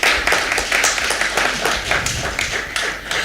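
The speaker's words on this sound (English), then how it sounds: "Clap on yourselves" An audience at a National Coaches Day awards ceremony in Jamaica claps steadily, a dense patter of many hands filling the room for the full stretch without a break.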